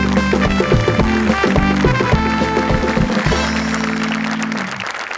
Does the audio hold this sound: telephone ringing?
no